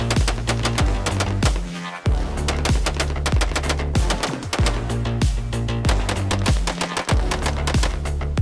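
A Cox Arms 13.7 Hunter AR-15 rifle firing freshly lubricated, a loud rapid string of evenly spaced gunshots with only brief breaks, close and sharp.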